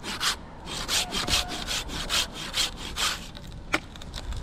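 A hand saw cuts through a branch of a tall khaya tree, with steady rhythmic rasping strokes, about two per second, loud and close with no one speaking.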